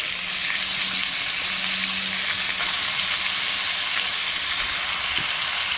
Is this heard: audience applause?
no